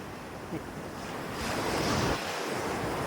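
Ocean waves wash in on a beach in the morning under steady wind, a broad continuous roar of surf with gusts buffeting the microphone, swelling louder midway then easing, no voices.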